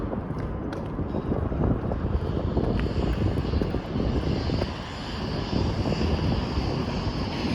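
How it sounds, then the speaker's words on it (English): UPS and FedEx cargo airplane engines roar steadily overhead near Phoenix, Arizona, a broad distant rush with wind buffeting the microphone throughout. "there's the postal airplanes"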